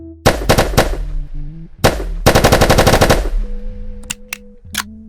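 MP9 submachine gun firing in a video game: loud, rapid automatic bursts, a few short strings and then a longer sustained burst, each trailed by a mechanical clatter and a few single shots near the end.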